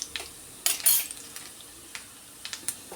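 Mustard seeds and urad dal spluttering in hot oil in a pan for a drumstick-flower stir-fry, a scatter of sharp pops and crackles with brief metallic clinks over a quiet background.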